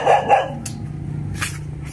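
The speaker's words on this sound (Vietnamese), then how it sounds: "chó sủa" Two sharp, close dog barks in quick succession at the start, followed by quieter yips and rustling background noise.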